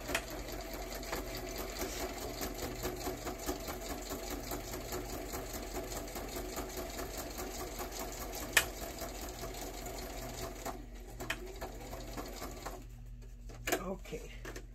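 A sewing machine runs steadily while stitching a zigzag, a continuous mechanical whir that carries on for most of the stretch before dropping away near the end, with some faint speech-like sound in the background.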